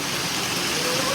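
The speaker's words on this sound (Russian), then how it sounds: "Гляньте, какой ливень идет." A heavy downpour roars as a steady, dense hiss of rain, loud and unbroken throughout.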